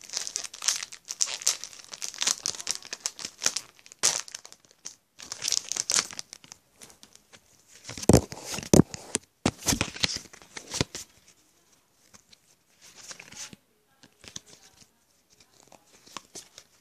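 A Pokemon Breakpoint booster pack wrapper is crinkled and torn open close up, with bursts of loud foil rustling and ripping that come in clusters, then fade to lighter handling of the cards inside.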